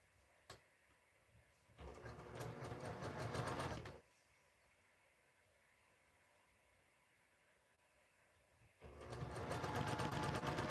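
A sewing machine runs in two sustained bursts of rapid stitching while piecing a scrap quilt, with a quiet pause between runs; steady, close and fairly loud, with no talk.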